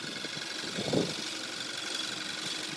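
A 2013 Volkswagen Tiguan 2.0L turbocharged four-cylinder engine idles with a steady, low, faint hum and a slight swell near the start.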